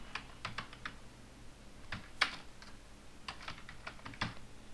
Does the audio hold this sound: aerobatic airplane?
no